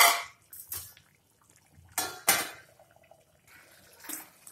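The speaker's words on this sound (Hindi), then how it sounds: "हम गैस को मद्धा करके ढक देंगे इसको थोड़ी देर सब्जी को" A lid is set on a pot of cucumber sabzi simmering over low gas: several sharp metallic clanks and clinks arrive in separate bursts, with quiet gaps and faint bubbling between them.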